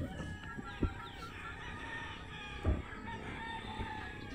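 Free-range hens cluck steadily with a couple of sharp, louder calls from nearby birds, a rooster crowing in the mix amid a busy farmyard.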